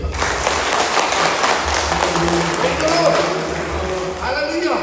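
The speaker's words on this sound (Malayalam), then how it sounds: "കൈയുള്ളവരെല്ലാം ഒന്ന് കൈയടിച്ചു കേൾക്കാം." A religious retreat audience claps together in a hall, a dense steady wash of applause lasting throughout and tapering slightly near the end, with faint voices mixed underneath.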